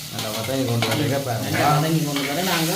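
Goat meat curry simmers and is stirred in a pan, giving a steady bubbling sizzle with scraping stir sounds. A voice talks over it.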